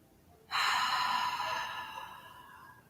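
A single deep breath, drawn in through the nose and let out through an open mouth during a guided relaxation, rising suddenly into a close, airy rush that slowly fades.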